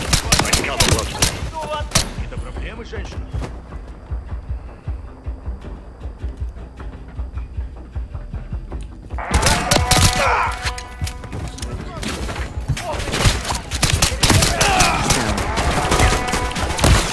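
Gunfire crackles through a Call of Duty: Modern Warfare III battle: dense, loud automatic bursts and sharp shots fill the scene, ease briefly into a low rumble midway, then return in heavy rapid fire.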